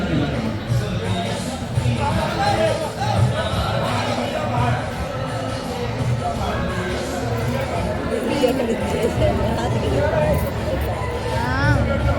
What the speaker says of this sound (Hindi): बहुत भीड़ हो गई थी।